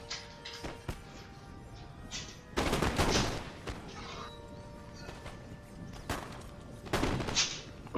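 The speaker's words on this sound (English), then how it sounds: "they're starting to fire because they're in the house, they're firing" Musket volleys from troops inside a building in Napoleon Total War crack out as sharp, loud bursts in uneven clusters, with some single shots between the heavier fusillades.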